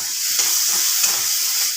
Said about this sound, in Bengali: তারপরও একটু ভাজা ভাজা করে নেব, যাতে আদার কাঁচা গন্ধটা চলে যায়